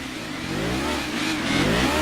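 A Subaru WRX Impreza's boxer engine revs in Gran Turismo 2, its rumbling, warbling tone climbing steadily in pitch and loudness over a couple of seconds.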